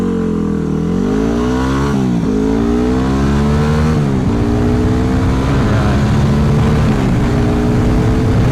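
Yamaha WR250X motorcycle accelerating hard in first gear on a city street, its loud engine revving up and dropping with each shift, steady and close throughout.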